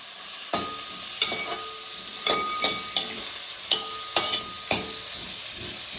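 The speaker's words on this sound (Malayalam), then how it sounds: "ചെറുതായിട്ടൊന്ന് വഴണ്ട് വരുന്ന ആ ഒരു സമയത്ത് നമുക്ക് കൊത്തി അരിഞ്ഞ് വെച്ച സവാള" Chopped onion and green chillies fry in hot oil in a pan for a chicken roast, giving a steady close sizzle broken by several sharp spoon-against-pan clinks as the mixture is stirred.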